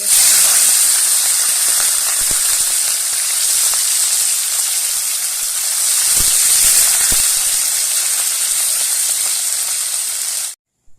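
Small puti fish frying in hot oil, a loud, dense, continuous sizzle and hiss that holds steady for about ten seconds before cutting off abruptly.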